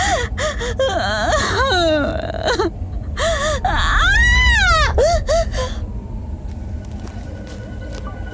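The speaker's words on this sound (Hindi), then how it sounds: "सिसकने की आवाज बढ़ने लगी।" A woman sobs and whimpers in a horror story about a shakchunni, with gasping wavering cries repeated over several seconds above a low rumbling background.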